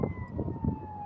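Police siren wailing on a street in Madison, Wisconsin, a steady tonal whine over rumbling traffic noise, fairly close and continuous for a brief moment, with no talking.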